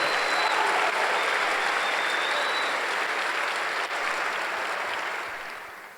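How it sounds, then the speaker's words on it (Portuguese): Congregation applauding during a Sunday church service, a loud, full roar of sustained clapping from a large crowd that holds steady before easing off toward the end. "Dá um aplauso ao Senhor."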